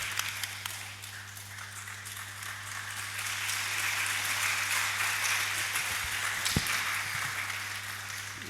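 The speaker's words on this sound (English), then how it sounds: "we are going to be doing a lot of clapping today." An audience applauds at a student union inauguration ceremony, with steady, sustained clapping that swells slightly and fills the hall.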